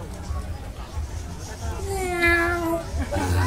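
A voice imitates a cat's meow, a rising and falling drawn-out call over background chatter and noise.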